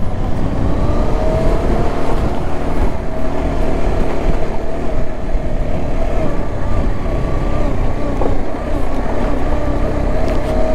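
A heavily loaded motorbike, ridden toward Ladakh by way of Zojila Pass, churns through a water crossing, its engine droning steadily against the rush and splash of water and nearby traffic.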